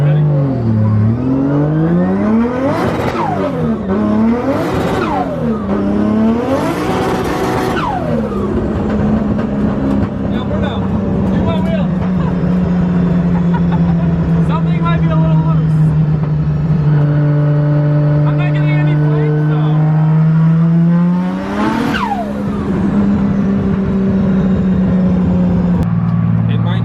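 Modified BMW E36 with a 1.5 litre engine revving repeatedly up to the rev limiter, loud and close, with sharp rising and falling sweeps and a steady bouncing hold at the limiter.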